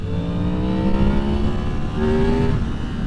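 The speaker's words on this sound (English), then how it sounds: "Oh, I love just goosing it in those little wheelies at 70." A 2023 Yamaha MT-10 motorcycle engine revs hard as it accelerates, producing a loud, close, continuous roar with rising pitch and a brief shift midway, with heavy wind rush underneath.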